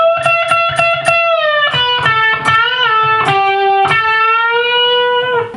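An electric guitar plays a solo lick, several quick picked notes followed by string bends and releases that sweep the pitch up and back down. The tone is bright and slightly overdriven, heard alone and close.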